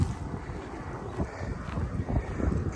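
Wind gusts across a lake at Wraysbury South Lake, blowing into one end, buffeting a nearby microphone with a steady, rumbling low roar that swells and eases slightly, with no talking.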